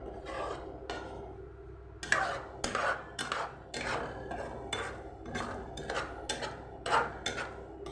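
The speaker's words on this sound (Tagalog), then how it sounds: "Haluin lang ng haluin para hindi siya" A utensil scrapes and stirs egg with tomato in a frying pan over low heat. Repeated rhythmic strokes and clinks against the pan sound close by, with no talking.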